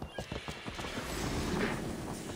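A horse whinnies while hooves clatter in a quick galloping rhythm, fairly close, in the video game Assassin's Creed Valhalla.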